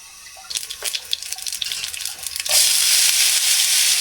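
Chopped onions and bitter gourd drop into a hot pan with cumin: a few seconds of clattering and stirring, then a sudden loud, continuous sizzle as the vegetables start frying close by.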